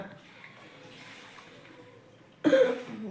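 After a quiet stretch, a single sharp, close cough bursts out near the end.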